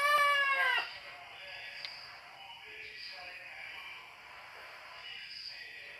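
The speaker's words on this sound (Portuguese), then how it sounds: "Olha o galo cantando." A rooster crows once at a distance, with a short rising call that fades quickly into quiet outdoor wind and faint background sound.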